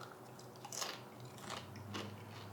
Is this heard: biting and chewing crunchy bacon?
yes